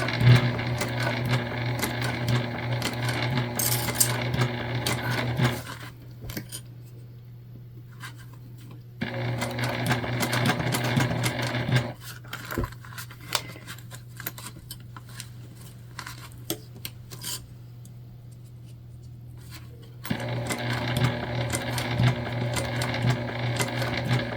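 A sewing machine stitches the thick gusset corner of a small cross-body bag in three close, loud bursts of fast steady whirring, separated by quiet pauses with faint handling sounds.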